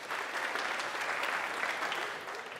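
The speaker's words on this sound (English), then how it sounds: "If you think it is true, clap now." A church congregation claps together in a brief burst of applause, a dense, even patter of many hands that holds steady for a couple of seconds and then tapers off.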